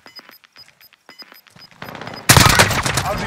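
Gunfire in a Finnish-commented video game: a run of sharp, sparse shots and clicks, then heavier sustained firing that bursts in loudly near the end, with a player speaking faintly.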